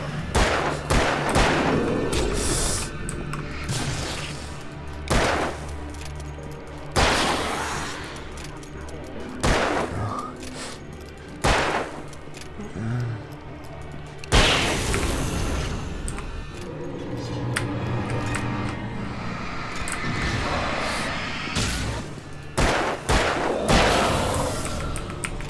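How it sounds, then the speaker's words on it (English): Gunfire rings out in the video game Alan Wake as a series of sharp, loud shots and bursts at uneven intervals, with game sounds and occasional speech in between. "Flares, flares, and plenty of bullets to shoot."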